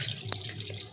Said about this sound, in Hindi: ये हम पानी डाल देंगे इसमें।